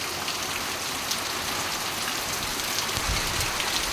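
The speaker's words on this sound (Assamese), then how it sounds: "খালি বৰষুণে পৰিলে।" Steady, even rain falls at a sports ground in Nalbari, a dense unbroken hiss of drops on surfaces with no voices.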